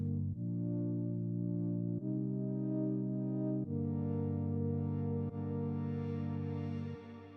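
Sustained synth chords in a pop song production, changing roughly every one and a half to two seconds with processed, effected tone and a brighter wash building toward the end, alone and no talking.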